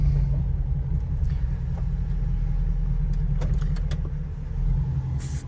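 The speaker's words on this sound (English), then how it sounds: "Let's go ahead and get this into four-wheel drive high, drop it into drive, and we are moving." A 2003 Jeep Wrangler Rubicon driving in four-wheel drive high, a steady low engine and road rumble filling the cabin, with faint light rattles over it and no talking.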